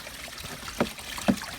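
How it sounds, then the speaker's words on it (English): Coolant fluid flushing out of the overflow jug of a Corvette C4, a faint trickling with two short splashy gurgles about half a second apart. "I'm going to flush out my overflow"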